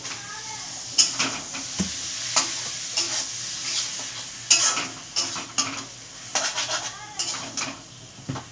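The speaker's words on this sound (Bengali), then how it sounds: "এবার আমি ধুয়ে রাখা চর্বিগুলো দিয়ে দেবো।" Washed goat fat dropped into hot oil in a pot, a steady hiss of frying broken by spoon scrapes and clinks against the metal, close and fairly loud, with no talking.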